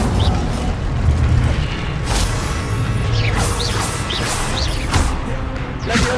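Fire spell blasts in the Hogwarts Legacy video game: loud booming whooshes and crackling impacts repeat over dense game music and effects.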